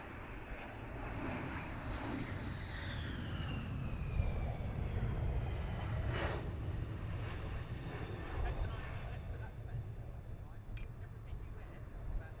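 F-15 fighter jet arriving at RAF Lakenheath, a broad distant roar with a whining engine tone sliding downward as it approaches, steady and moderately loud, with voices underneath.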